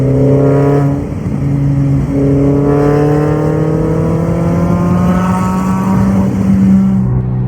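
A car engine hums steadily while driving, its tone rising and shifting through gears, loud and close throughout with no talking.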